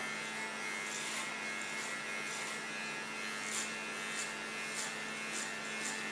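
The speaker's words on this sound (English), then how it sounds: "Going to work with a clipper comb. I use 6 millimeters on top." A 6 mm clipper comb on an electric hair clipper drones steadily as it cuts short hair on top, a close, continuous buzz with gentle rhythmic swells from the passes through the hair.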